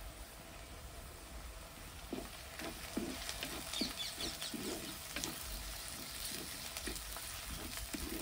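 Tomatoes and onions fry in a pan for a yogurt tadka curry, a constant soft sizzle steady throughout, with faint spoon taps and stirring scrapes coming in a loose rhythm.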